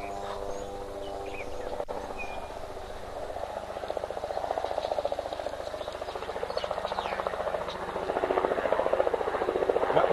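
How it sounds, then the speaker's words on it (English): A sightseeing helicopter over Victoria Falls drones with a rapid rotor thump that grows louder toward the end, a continuous low chopping hum with no talking. "those helicopters are all part of the activities to see the Victoria Falls from high"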